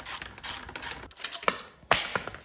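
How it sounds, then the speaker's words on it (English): Ratcheting socket wrench working a bolt loose on a Triumph Daytona while fitting SATO frame sliders: bursts of close, rapid metallic clicking in several short strokes, with brief pauses between them. "we did have to bust out the baby breaker bar, but we got the bolt out"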